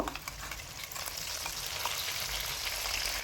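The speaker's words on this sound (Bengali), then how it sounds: "খুব ভালো করে মশলার সাথে মিশিয়ে নেব" Fried potatoes for aloo bhujia get stirred in a pan with salt and ground spice paste, a soft, steady sizzle with light scraping and moist shuffling, quiet and close.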